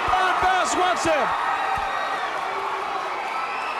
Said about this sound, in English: The crowd going wild as so is Ron Bass.